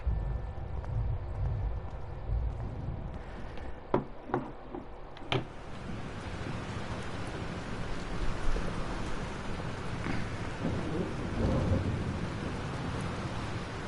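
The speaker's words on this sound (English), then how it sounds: "This storm is real." Steady rain falls in a Life is Strange video game thunderstorm, with a few sharp thunder cracks in quick succession early on and a low rumble continuing under the constant downpour.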